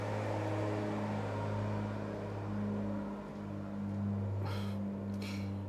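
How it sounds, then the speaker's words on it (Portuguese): Truck passing by outside, a steady low engine drone with a faint rise and fall as it moves past, heard indoors at moderate distance with no talk. "só esperando o caminhão passar aqui"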